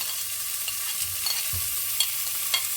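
Tomatoes, ginger garlic paste and green chili frying in a pan for a soya mince curry, with a steady soft sizzle and a few faint stirring scrapes, no voices.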